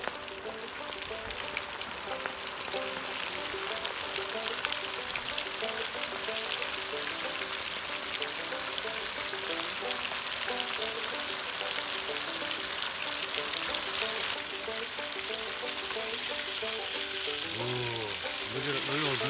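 Perch fillets fry in a pan with a dense, continuous close sizzle and crackle that holds steady throughout, with a brief scrape or shuffle near the end.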